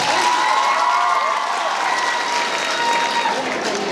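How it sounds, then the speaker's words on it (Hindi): Dense, continuous applause from an audience at a college annual function, loud and steady throughout with crowd noise mixed in. "तो अभी पहली बार अपने आप के लिए ताली बजाओ"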